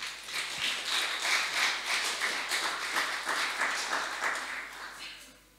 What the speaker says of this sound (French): toi qui viens pour la première fois, on l'applaudit